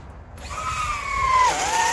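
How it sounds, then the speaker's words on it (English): A drill spins a 4-inch round hole saw into greenhouse material for an intake fan, with a close, whining grind that starts abruptly and shifts pitch partway through the brief cut. "Then I come up with a 4-inch round hole saw."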